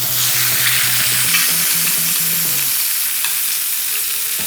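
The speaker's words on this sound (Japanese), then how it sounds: "フライパンを傾けて 油をかけてあげる。" Roast beef sizzles steadily in a tilted frying pan over lowered heat as hot oil is spooned over it, a loud continuous fry with soft rhythmic scraping and stirring through the first half.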